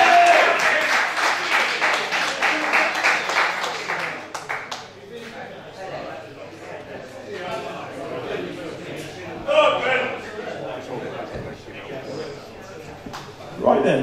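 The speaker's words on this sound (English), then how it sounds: "Ladies and gentlemen, can I have a big round of applause for Ben Dutton and Nigel Bown?" Applause greets two boxers at a boxing promotion press conference, a burst of clapping at the start that thins and fades as an announcer's voice carries on over the room.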